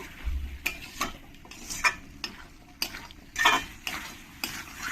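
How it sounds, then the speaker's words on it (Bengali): Whole onions sautéing in oil in a pan alongside rajma, with a quiet background sizzle punctuated by repeated metallic spatula scrapes and clinks against the pan at an irregular rhythm. "আর এই গোটা পেঁয়াজগুলো এর সঙ্গে একসঙ্গে ভালো করে কষিয়ে নেব"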